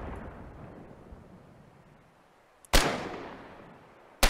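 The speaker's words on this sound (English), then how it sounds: "they're gonna hit us with mortars now" Mortar shells exploding in the war game Foxhole: one loud, close, sharp blast with a rumbling tail after a quiet stretch of low ambient noise, then the abrupt start of a second blast at the very end.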